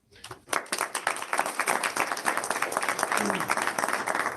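Applause breaking out at a board of education meeting for a committee, starting abruptly after a brief pause and building into steady, dense clapping from a modest room of people.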